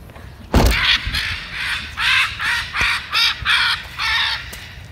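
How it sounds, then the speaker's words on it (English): Harsh, repeated caws from a pet bird let outside to fly again, a series of loud calls in quick bursts following a sharp knock, heard close. "That's the sound of a happy bird that hasn't been flying for 3 days."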